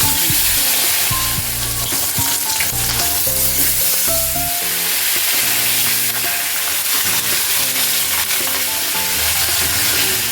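Catla fish heads sputter in a kadai of well-heated oil, giving a loud, dense, unbroken sizzle close by with scattered pops throughout.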